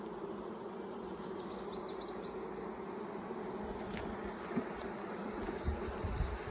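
A steady, dense hum of honeybees buzzing close by inside an open hive during an inspection, with faint knocks and shifts underneath.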